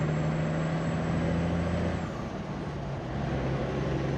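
A heavy Peterbilt 359 truck engine drones steadily while a high, thin turbo whine holds, then fades away halfway through as the engine note shifts.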